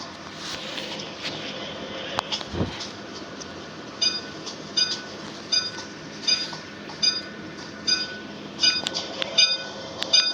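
A video game train rumbles steadily with rhythmic clicking and clanking of wheels over rail joints, a continuous mechanical drone with periodic metallic ticks, in a Bangladeshi train simulator.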